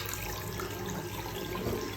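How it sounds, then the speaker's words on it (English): Tap water runs steadily into a sink after a waste trap service, a constant close hiss of flowing water with no talking. "we need to run the water and check if there is still any leakage"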